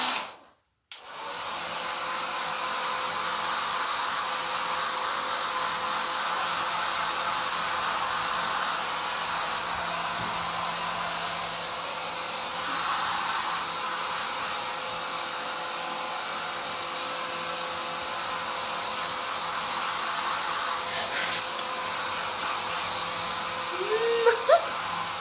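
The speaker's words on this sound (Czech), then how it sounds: "A teď ještě použijeme trošičku ten fén." Hair dryer blowing on a hamster after its bath, a steady close whooshing hum that starts abruptly and runs unbroken for nearly half a minute, with only slight fluctuations as it moves, then a small squeak-like sound at the end.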